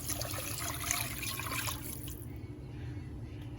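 About two and a half cups of water pour into a pan of pork roast gravy, making a steady splashing, gurgling stream that softens and thins partway through as the pouring eases.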